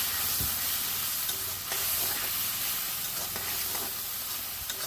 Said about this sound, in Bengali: মশলা থেকে যতক্ষণ তেল না ছাড়বে এটাকে আমি ভাজতে থাকবো